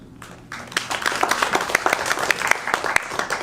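Audience applause at a full live show, many hands clapping steadily and loudly after a brief quiet start, sharp claps standing out of the crowd sound, with no talking over it.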